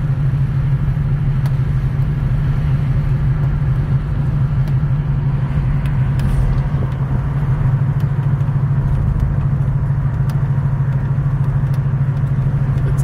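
A Buick GS400 V8 runs at a loud, close, rumbling idle, the low throb steady with slight unevenness as it stumbles, and no one speaks.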